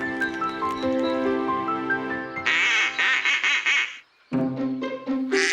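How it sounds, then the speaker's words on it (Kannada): Cartoonish quacking calls of an animated duck come in a few bursts over a bright musical backing, with a brief pause before more quacks and music resume. "ಆ ಶಬ್ದನ ನಾವು ಕ್ವಾಕಿಂಗ್ ಅಂತೀವಿ"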